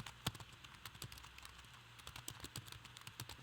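Close clicks of a computer keyboard typing out a quiz question while building a virtual escape room, the keystrokes quick, irregular and fairly soft, with no voices.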